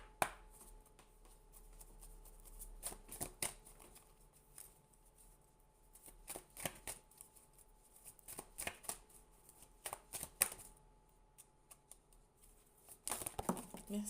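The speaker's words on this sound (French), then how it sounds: "Laissez-moi le temps de brasser les cartes" Tarot cards shuffled by hand in bursts of crisp riffling and slapping, with short pauses between flurries and a heavier clatter near the end, close and alone.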